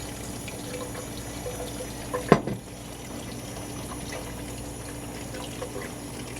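Tap water runs steadily over food held in a kitchen strainer, a continuous close hiss of flowing water broken by one brief clatter partway through.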